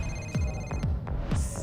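A cell phone rings inside a video being played, repeating short electronic ring bursts about four times in quick succession, fairly loud over a steady background hum.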